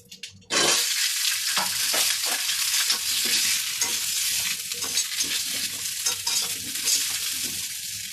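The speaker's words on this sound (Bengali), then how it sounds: "এবার আমি ওই তেলের মধ্যে ফুলকপি আর আলুটা ভেজে নেব" Cauliflower and potato drop into hot oil with a sudden loud sizzle that settles into steady, close frying crackle, broken by stirring clatter throughout and no talking.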